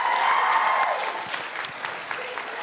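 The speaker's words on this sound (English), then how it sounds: "Give them one last round of applause" An audience at a student public speaking contest gives a round of applause, a dense clatter of clapping that is loud at first and then thins out toward scattered claps near the end.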